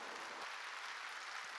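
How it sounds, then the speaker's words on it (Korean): A church congregation applauds with a brief, dense burst of clapping that is steady and even throughout, and no voices are heard over it. "깨달은 사람만 박수 쳐요."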